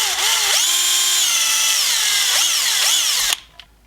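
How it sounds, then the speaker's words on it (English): A power drill whines at high speed for about three seconds, pitch dipping and rising as it bites into epoxy in a die-cast toy car's axle hole, then spins down and stops. "I'm going to actually drill out this epoxy that is present where the hole is"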